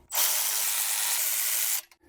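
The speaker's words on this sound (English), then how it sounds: "Once we get them all loosened up, I'm just going to go back with the electric ratchet." Electric ratchet loosening triple square bolts during front wheel bearing work on a 2022-or-later VW Mk8 Golf R, a single loud, steady high whirring rattle lasting under two seconds, close up and alone.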